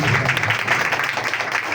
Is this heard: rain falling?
no